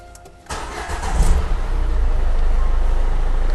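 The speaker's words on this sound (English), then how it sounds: "So let's crank the engine." A Renault car engine cranks briefly, catches and starts, then settles into a loud, steady idle.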